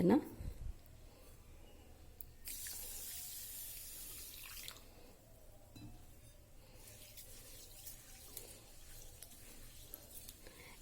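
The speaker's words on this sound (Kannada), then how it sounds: "ಇದನ್ನು ಫಸ್ಟು ಚೆನ್ನಾಗಿ ನೀರು ಹಾಕ್ಕೊಂಡು 1-2 ಸಲ ಚೆನ್ನಾಗಿ ತೊಳ್ಕೊಳ್ತೀನಿ." Foxtail millet being rinsed under running tap water, a steady faucet stream with splashing and swishing of grains in a bowl, close and moderately loud, faint talk at the start.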